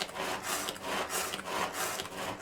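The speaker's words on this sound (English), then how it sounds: "So we'll chop the rest of our carrots up." Carrots being chopped with a very sharp knife in a home kitchen, heard as a run of close, scraping cuts and strokes in a steady rhythm, with no talk.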